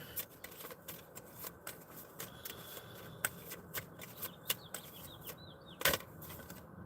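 Tarot cards are shuffled and handled close by, with crisp riffles and flicks in an irregular rhythm and one louder snap near the end, all against a quiet room.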